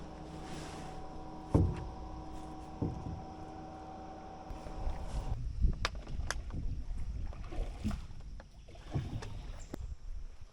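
A boat motor drones over water on the Sambu River in the Darien Gap, then shifts to splashing and wind buffeting as the vessel moves along, with occasional knocks and no speech.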